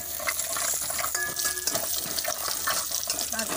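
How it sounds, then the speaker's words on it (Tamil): Curry leaves sautéing in hot oil in a pan on a low flame for a horse gram rasam, with steady soft sizzling and occasional stirring scrapes, moderately close and without speech. "எண்ணெயில் வதக்கணுங்க சிம்மில் வச்சுட்டு வதக்குங்க"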